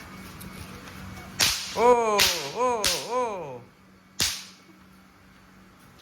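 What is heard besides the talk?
snap pop firecrackers thrown on ground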